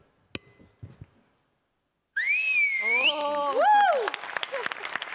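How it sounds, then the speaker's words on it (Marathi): A comedy show audience responds to two performers with a loud, piercing whistle that swoops and warbles, joined by clapping and crowd noise after a few faint clicks and a brief quiet gap. "तुमच्या दोघांसाठी खूप टाळ."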